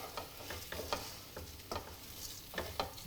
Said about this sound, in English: Coat your rice in that lovely olive oil